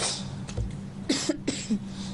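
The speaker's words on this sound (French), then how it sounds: "elle commence à tousser là" A few short coughs, fairly faint, sound over a low steady background hum.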